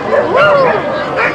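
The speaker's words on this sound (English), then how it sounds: "They're going to give us a show about the sledding dog, how it works during the winter time" Sled dogs yip and whine excitedly at a sledding demonstration in Alaska's Denali area, a close, loud rising-and-falling yelp with crowd noise behind.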